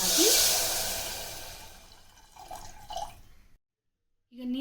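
Water splashes into a hot pan of food roasting in ghee, a bright hiss and pour at the start that fades over a couple of seconds, followed by a few small bubbling sounds, a silent gap, and a brief voice.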